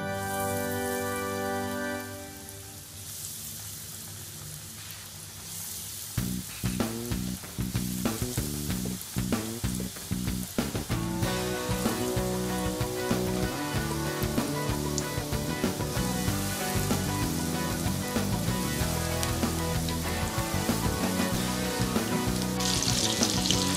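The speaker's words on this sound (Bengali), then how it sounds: "তেল গরম হয়ে গিয়েছে, আমি একে একে চিকেনগুলো তেলে দিয়ে দিব।" Chicken pieces for KFC-style popcorn chicken drop one by one into hot oil, setting off a loud, continuous crackling sizzle with dense popping spatters that builds after a quieter start and holds steady throughout.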